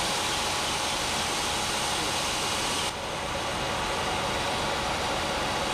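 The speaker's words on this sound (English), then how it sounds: "Listen to that motor. She's purring like a kitten now." A car engine idles with a constant broadband hum and a low rumble that stays even throughout, close and fairly loud with no talking. The car has an overheating fault.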